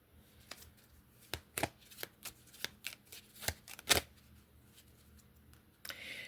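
Vintage tarot cards being shuffled close by, a run of crisp riffling flicks and soft taps with a louder burst near the middle, then a brief rustle at the end, with no talking.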